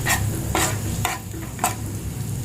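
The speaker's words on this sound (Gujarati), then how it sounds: "હવે આને આપણે થોડું ફ્રાય કરી લઈશું" Garam masala and spices sizzle steadily in oil in a pan while a utensil scrapes through them in four regular strokes, close up.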